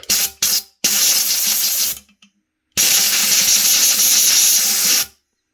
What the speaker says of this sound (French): Un petit coup de soufflette.